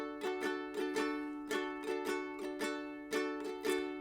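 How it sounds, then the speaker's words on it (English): Ukulele strummed in a repeating down, down, up pattern, the strokes falling in a steady rhythm of grouped strums, close-miked and alone with no voices. "And then the down, down, up pattern sounds like this."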